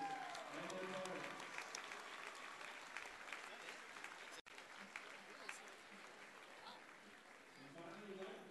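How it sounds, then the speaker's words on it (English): Gym crowd applauding the Collinsville Kahoks boys basketball players and their parents, a dense, steady wash of clapping that runs the whole time with scattered voices and cheers mixed in. "Let's give a big applause for our Kahok boys basketball members and their parents."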